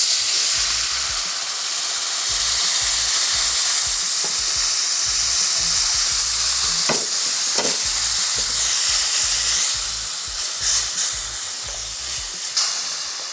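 Curry blend toasts in a pot for Trini-style curry beef with a loud, continuous close sizzle and hiss, and a few stirring scrapes and knocks. Toward the end the sound surges and bubbles as the beef liquid is poured in.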